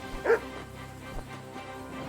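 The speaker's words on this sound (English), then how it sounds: "Hey, a wild dog." Wild dog in Kingdom Come: Deliverance 2, one sharp close bark followed by a quieter yip over a low game soundscape.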